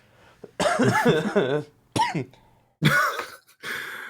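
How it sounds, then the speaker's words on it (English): A burst of laughter followed by several sharp coughs, close and loud, with short pauses between the harsh fits. "As I laugh and then cough."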